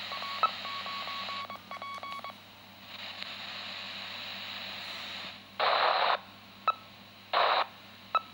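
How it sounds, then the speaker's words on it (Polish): A second handheld amateur radio keys up an unmodulated carrier, producing steady bursts of hissing noise that start and stop abruptly, with several short keyed pulses and a brief tone at the end, fairly close and without talk. "więc tutaj puszczam nośną"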